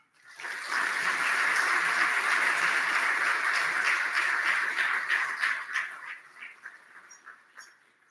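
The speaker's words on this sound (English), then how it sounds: "I ask you for a round of applause that makes it all happen." At a State of the Port gathering held with maritime and shipping associations, a crowd applauds an introduced speaker. The clapping swells quickly, holds full and steady for several seconds, then thins and fades into scattered claps.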